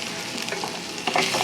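Crushed ginger fries in a pan with cumin and mustard seeds for upma, a steady close sizzle that swells briefly as it is stirred near the end.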